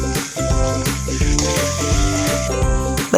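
Ground meat sizzles in a pan with softened tomatoes as it is stirred, giving a steady frying hiss with scraping and clattering from the utensil and no talk.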